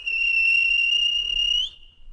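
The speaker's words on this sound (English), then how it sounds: "Then the guard blew his whistle." A train guard's whistle gives one long, steady, shrill blast lasting well over a second that ends with a sharp upward chirp, clear and loud with only faint background rumble.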